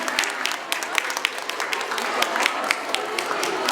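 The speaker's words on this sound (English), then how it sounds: "please give a huge round of applause for them" Audience at a science day event applauding prize winners, a dense wash of many hands clapping steadily at moderate distance throughout, with sharper individual claps standing out.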